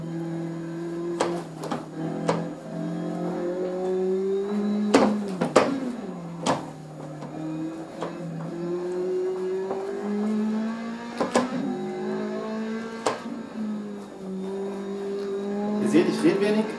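A car engine drones steadily while driving fast in third gear, its pitch rising and falling with gear changes, with sharp clicks and a voice speaking over it.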